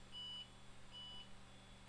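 Two short, high-pitched electronic POST beeps from an IBM PS/2 computer, evenly spaced, sound over a low steady hum.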